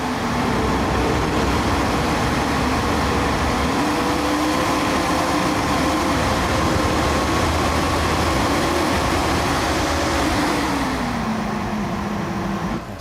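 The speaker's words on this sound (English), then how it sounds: "So you can hear the fans a little bit." Fans of a Goldshell Mini Doge Pro crypto miner spinning in a steady, loud whir with a tone that slowly shifts in pitch before easing down near the end, with no talk.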